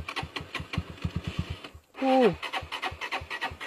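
A motorcycle engine cranks and catches in a short burst during a night ride, preceded by rapid sputtering and interrupted by a loud tonal call, with voices and singing around it.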